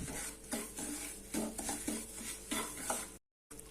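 Rice flour being stirred into semolina that is roasting in a pan, for a Chettinad ukkara sweet made with moong dal and jaggery; a steady scraping and stirring with light sizzling and spoon-on-pan knocks, close and continuous, with a brief dropout near the end.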